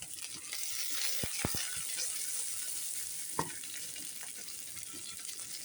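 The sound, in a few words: ginger, shallots, curry leaves and green chilies sautéing in pan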